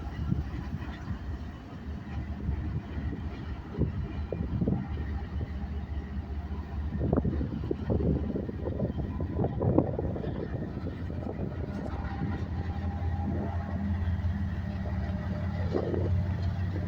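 A train engine rumbles past near a Home Depot, a steady low mechanical drone with rattling and clanking bursts from the cars, heard at moderate distance.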